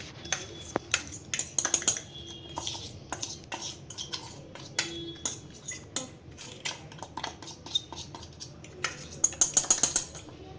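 Ground Oreo biscuit powder is put into a bowl with a spoon, giving scattered close metallic clinks and taps against the dish at an irregular pace, with a quick cluster near the end.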